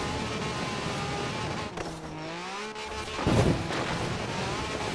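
Can-Am Maverick off-road buggy in Forza Horizon 4, its engine droning steadily with shifting pitch sweeps as it races through open fields and trees, a burst of rougher noise near the end.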